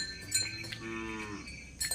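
A purebred heifer moos once in a short, low, drawn-out call. A cowbell clinks nearby at the start and end.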